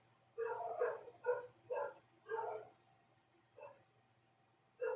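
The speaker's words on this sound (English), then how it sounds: "I'm sorry, my dogs are cussing out there." Several dogs bark outdoors in short bursts of bow-wow barks with pauses between, fairly close and loud, with a final bark at the end.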